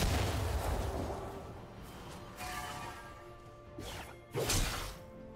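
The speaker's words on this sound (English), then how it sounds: "Red team's turret has been destroyed." A turret is destroyed in a League of Legends match, heard as a series of heavy crashing impacts and whooshes, with the loudest burst near the end, set against a steady game soundscape.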